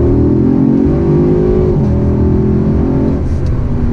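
A 2017 Chevrolet Camaro 2SS coupe with a naturally aspirated 6.2-liter V8 revs up, its deep engine note rising and then settling into a loud, steady idle close by.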